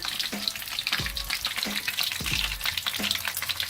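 Dahi kebabs frying in hot oil until golden brown, a steady bright sizzle running throughout with a few soft, low knocks at intervals.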